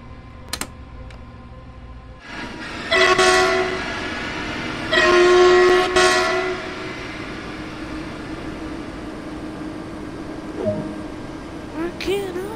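Train running and horn in the video game Train Sim World 2, with a rumbling engine under two loud, sustained horn blasts early on, then a quieter rolling hum with a few clanks and a brief squeal near the end.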